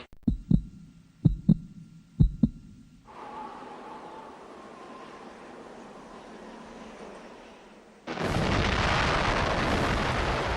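Archival atomic bomb test footage opens with a few sharp beeps and a low rumble before a sudden loud, sustained roar of the blast takes over and holds steady to the end.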